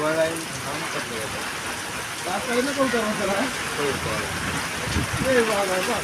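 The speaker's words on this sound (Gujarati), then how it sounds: "વાવાઝોડું અને વરસાદ આ બધું ભેગું છે" A steady hiss of rain during a storm runs underneath as people talk over it throughout.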